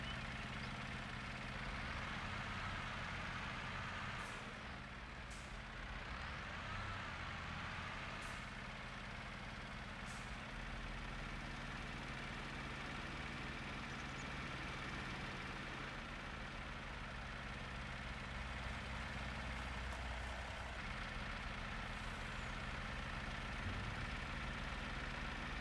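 A tractor engine idles steadily in a farming video game, a low continuous rumble with faint clicks and bumps on top, with no talk throughout.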